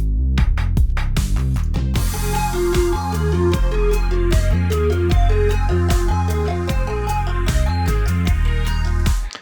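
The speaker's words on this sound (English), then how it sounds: "this is an arpeggio that comes with the preset" A Korg Triton synthesizer plays a fast, repeating run of arpeggiated notes from a preset over a steady beat and bass, loud and continuous.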